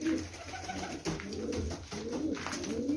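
Tabagat breed pigeons coo close by in a loft, with repeated soft, throaty rolling calls that overlap in uneven bursts over a low background hum.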